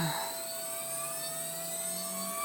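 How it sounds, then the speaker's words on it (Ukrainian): A woodworking spindle motor fitted with a 3 mm cutter over a piece of padauk revs up toward 20,000 rpm, a steady, fairly quiet high whine whose tones slowly climb in pitch. "Давайте запускаємо шпиндель. Зараз піднімаю оберти"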